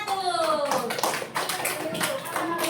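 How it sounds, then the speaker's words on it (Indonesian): A small group claps for a team of students in a classroom, with brief scattered applause over a few seconds while a voice speaks over it. "kasih aplaus untuk kelompok 1"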